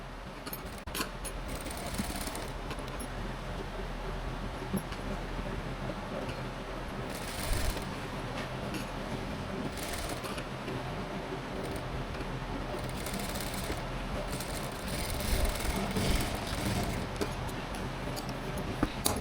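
A sewing machine runs steadily while stitching a Rajputi kanchli blouse, giving a continuous mechanical whir with fast ticking, close and moderately loud for the whole stretch, with no talk.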